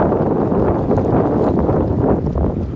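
Strong wind buffets the microphone at the L Street beach dock in a windstorm, a steady loud roar with gusty swells, no one speaking.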